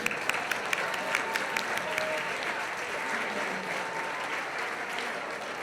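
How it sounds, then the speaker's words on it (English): Steady audience applause at a Lunar New Year gala, dense clapping from a large crowd sustained throughout without pause. "a big round of applause for Bill Lee and Viet Minh"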